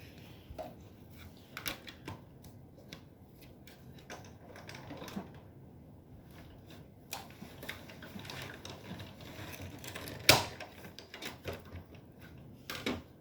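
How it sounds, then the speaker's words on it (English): Paper card cranked through a die-cutting machine while making a beach-themed greeting card, a run of uneven mechanical clicks, rattles and knocks close up, with a louder clack near the end. "close that up and run this through our machine"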